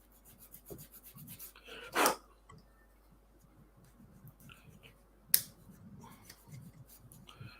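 Quiet, soft rasping strokes of a sanding stick rubbing a small part of a Bedford OSB scale model kit, broken by two sharp clicks or snaps.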